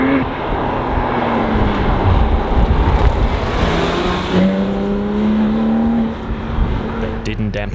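Horsepower-strong sports cars racing at the Corsica GT on a closed island road, engines roaring steadily with rising and falling revs as cars pass, some distant talk under the continuous loud engine noise.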